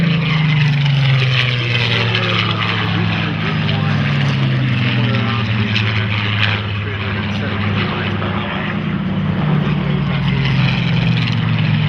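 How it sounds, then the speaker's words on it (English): Griffon-engined Spitfires, the large late-mark fighters with contra-rotating propellers, pass at an airshow with a loud, sustained propeller-engine drone that shifts steadily in pitch, while a commentator talks over it. "coming in from the right now, the Griffon engine Spitfires, the big Spitfires."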